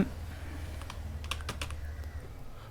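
Typing on a computer keyboard while filling in an online ration smart card application, with a few distinct key clicks over a steady low background hum, fairly faint and without talk.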